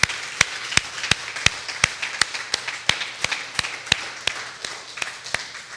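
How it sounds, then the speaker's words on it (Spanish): A congregation claps during a Spanish-language church service celebrating the resurrection, with sharp, evenly spaced claps in a steady rhythm, about two per second, loud and close, with no talking over them. "Denle un aplauso fuerte al Señor esta mañana."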